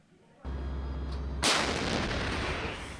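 A heavy artillery boom from South Korean military firing exercises kicks in after a low rumble and rolls on as a sustained, roaring blast, loud and somewhat distant.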